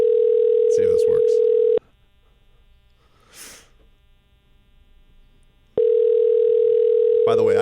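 A steady telephone dial tone hums loudly at the start, drops out during a quiet stretch with faint talking, then returns just as loud at the end, as a call is placed.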